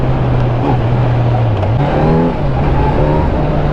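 Kawasaki inline-four motorcycle engine revving loudly nearby, a smooth droning note that climbs in pitch in short pulls before settling.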